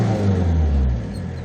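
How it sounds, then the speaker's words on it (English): A Hyundai Porter truck's engine revving up, a loud, steady low rumble that swells and then eases slightly, heard from close by without talking. "Let's try to accelerate."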